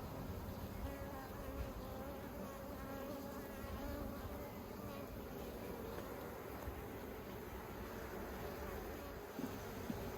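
Honey bees buzz steadily around an open nucleus hive made from a split, a soft, close, continuous hum with individual bees droning past, no talking heard.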